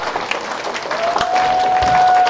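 Audience applause at a promotional product event, a steady wash of clapping from a full hall with a thin tonal whine running through it, holding and swelling slightly toward the end.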